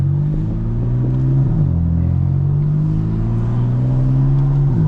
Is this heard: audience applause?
no